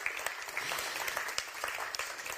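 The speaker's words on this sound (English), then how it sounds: "there's applause here from the audience in Brussels" An audience in Brussels at the European Year of Skills Festival applauds, a fairly faint, steady patter of many hands clapping with a few sharper claps standing out.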